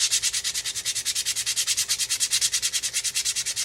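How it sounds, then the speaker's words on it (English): Rapid back-and-forth scraping of 80 grit sandpaper against a glittered Dollar Tree pumpkin, a steady rhythmic rasp of about ten strokes per second, close and loud with no talking. "we're just going to take some 80 grit sandpaper and I'm just going to sand it"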